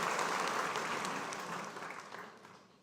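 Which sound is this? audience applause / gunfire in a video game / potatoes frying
audience applause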